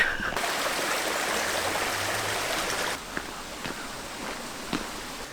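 A creek flows with a steady rushing wash near a garden, footsteps crunching along beside it; the water noise drops back after a few seconds, leaving a softer trickle with occasional sharp steps.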